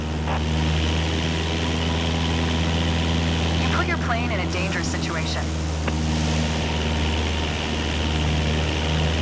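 Steady, loud propeller drone of a Cessna 172 engine at full power in Microsoft Flight Simulator 2024, a constant hum running throughout while a voice speaks over it.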